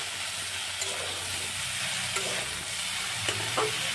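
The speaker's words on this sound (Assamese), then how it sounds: "এনেদৰে ভালদৰে মিক্স কৰি দিলোঁ" A pan of salted mixed vegetable fry sizzles steadily while a spoon stirs it, with occasional scraping clinks of the utensil against the pan and no talking.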